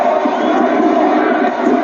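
A large cricket stadium crowd at the 1992 World Cup semi-final between Pakistan and New Zealand cheers as one steady, dense roar. The noise stays loud and unbroken throughout, with no distinct voices standing out.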